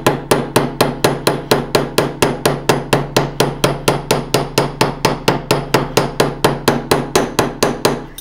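Close, loud hammering as the rounded end of a metalsmithing hammer bevels the edges of textured metal, a steady run of about thirty evenly spaced sharp strikes, each with a brief ringing decay, with no talk.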